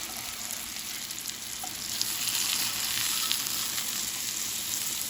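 Salisbury steak patties frying in a pan, a steady, fairly quiet hiss and crackle of sizzling fat that holds constant throughout with no talking.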